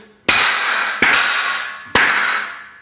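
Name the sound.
hammering a TI chip into a piece of wood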